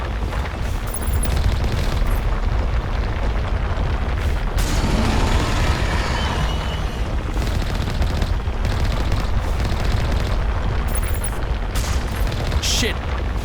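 In the Mass Effect video game, the Mako vehicle's cannons fire as dense, continuous booming bursts under a loud game soundscape.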